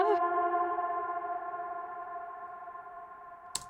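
A slap house chop sample rings as a sustained, fading synth-like tone, moderately quiet and alone, with a short click at the end.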